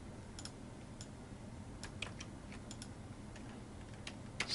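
Sparse, separate clicks of computer keyboard keys pressed for cut and paste shortcuts, quiet and close, with irregular gaps between taps and no speech.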